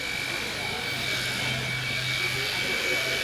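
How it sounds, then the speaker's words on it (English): Electric livestock clippers trim a heifer's hair along the top line, giving a steady, close mechanical buzz with a constant hum that runs unbroken through the whole stretch. "he's gonna take those clippers and go along and make a nice point kind of to the top line"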